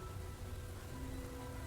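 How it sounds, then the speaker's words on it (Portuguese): Steady rain hisses continuously at a moderate distance, with a low rumbling underlayer and no voices. "Tá chovendo, Miguel."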